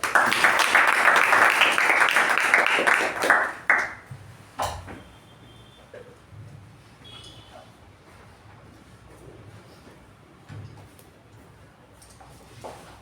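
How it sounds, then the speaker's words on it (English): Loud applause at a Toastmasters club meeting for a few seconds that quickly fades, followed by quiet room tone with a few soft clicks and knocks. "Let's give a huge round of applause to Toastmaster Madhu."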